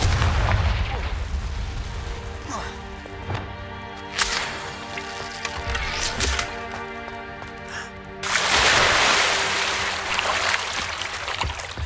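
The Confringo blasting spell fires in the video game Hogwarts Legacy, with sharp cracking bursts and booming impacts over droning game music, and a loud roaring surge near the end.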